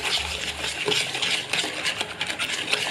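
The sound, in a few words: stirring egg yolks and sugar in a bowl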